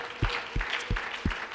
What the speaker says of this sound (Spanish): ¿Cuánto lo pueden dar un fuerte aplauso al Señor Jesús?